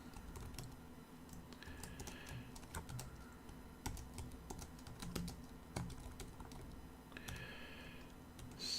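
Fast clicky typing on a computer keyboard during a livestream, with scattered taps and short bursts of keystrokes, close and fairly quiet, and no speech.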